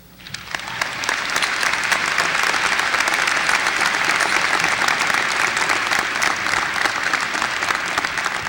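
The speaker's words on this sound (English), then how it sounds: "Could we please have one more round of applause for our wonderful speaker today, Mr. David Hafner" Commencement audience applauding the speaker, a large crowd's clapping that swells quickly in the first second and then stays full and continuous, dense and steady for several seconds.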